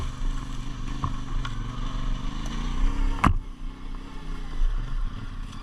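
A CF Moto 450MT Ibex 450 off-road motorcycle labours uphill on a trail, its engine droning steadily close by with a sharp clunk midway.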